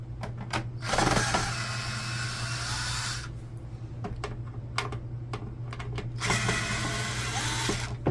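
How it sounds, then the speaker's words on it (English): An IKEA Fixa electric screwdriver whirs in two sustained bursts as it backs screws out of a Canon MG3620 printer's side panel, with sharp clicks and taps from the work in between. "this is a Fixa, like a screw gun from IKEA"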